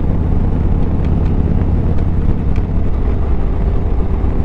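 A Harley-Davidson fitted with a Rekluse auto clutch rides through a small downtown on a cold January day, its engine a loud, steady low rumble heavily mixed with wind buffeting at the microphone and no voices.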